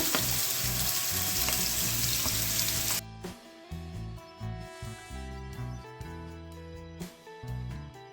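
Onion and green chilli fry in a pan, a loud steady sizzle for the first three seconds, then softer, broken crackling with a few clinks of utensils.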